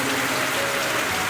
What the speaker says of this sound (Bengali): পুরা বৃষ্টি হয়ে আছে আঙ্গ হোস্টেলে, দেখেন এই যে দেখেন পুরা বৃষ্টি।